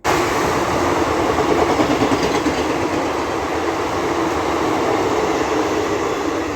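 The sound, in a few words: Malda Intercity train passing the station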